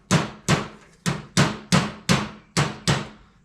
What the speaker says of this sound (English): So I might just hammer this.